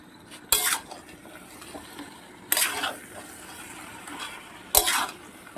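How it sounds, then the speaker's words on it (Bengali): Spices are stir-fried with mutton in a pan, a low continuous sizzle punctuated by three loud scraping stirs of a spoon against the metal, close by and with no talking. "এবারে মশলাটা আমি মটনের সঙ্গে কষবো"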